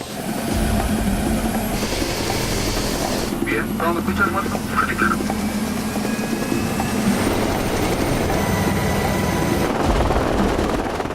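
Military helicopters running on an airfield as troops load in for an exercise, a loud continuous rotor and engine roar filling the whole stretch, with voices faintly underneath.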